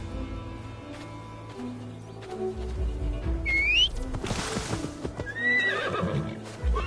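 Horse hoofbeats and a whinny in a forest of old Gloucestershire in Assassin's Creed Valhalla, with clip-clop steps, a loud neigh midway and birdsong whistles over a low ambient bed.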